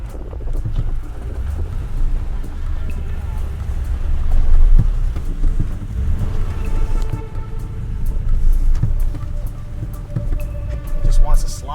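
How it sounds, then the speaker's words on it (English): A Toyota Tundra TRD Pro in four-wheel low crawls uphill off-road, its engine a low, rumbling drone that swells and eases. Tires crunch over loose ground, and there are occasional background noises. "Right now I have the vehicle in 4 low, as much torque as I can to get out of this little spot here."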